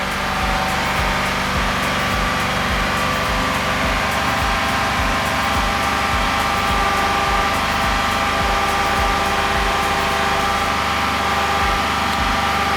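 Car engine held at a steady 2,500 RPM during a battery test, a constant loud droning hum with a faint regular ticking pulse underneath, close and unbroken throughout.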